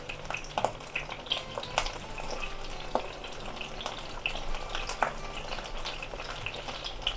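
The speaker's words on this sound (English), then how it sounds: "So I use the frying pan side and pan fry like this." Chicken sizzles and crackles in a frying pan, with scattered pops and spits over a steady frying hiss; no one speaks.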